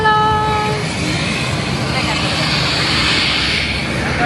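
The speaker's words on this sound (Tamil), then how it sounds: "Propeller engine." A propeller airplane engine runs as a steady, loud broadband roar throughout, with a brief whining tone fading in the first second.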